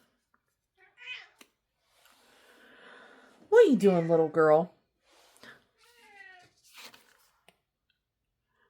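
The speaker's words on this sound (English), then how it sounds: "My cat came to join us" A domestic cat meows in a short, loud drawn-out burst, nearby and clear, with scattered softer noises around it; a person speaks briefly to the cat just before.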